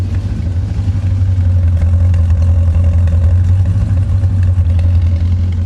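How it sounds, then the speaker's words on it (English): A 1985 Chevrolet Corvette engine runs at a steady idle, a loud, close, continuous low rumble with faint clattering on top. "Sounds like it's running pretty decent right now."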